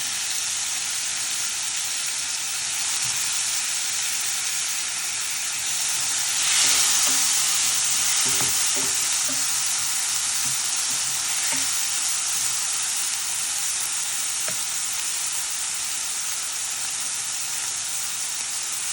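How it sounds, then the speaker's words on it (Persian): Tomatoes fry alongside an omelet in a pan, a continuous close sizzle that swells briefly when they go in, with a few soft stirring knocks and no voices. "حالا گوجه فرنگیامو اضافه میکنم"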